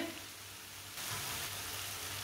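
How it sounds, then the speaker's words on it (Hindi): Ground spices (red chilli and turmeric) frying in a pan for a turnip curry, giving a steady soft sizzle that grows noticeably louder partway through, heard alone without talk. "1 मिनट के लिए मसालों को पका लेंगे।"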